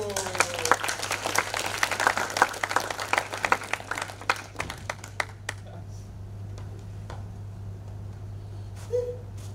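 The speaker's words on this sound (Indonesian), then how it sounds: "Tepuk tangan untuk sang pengagung panggung" An audience claps after a stage monologue performance, a loud, busy patter of many hands that thins out over a few seconds into scattered single claps, with a low steady hum beneath and a faint voice near the end.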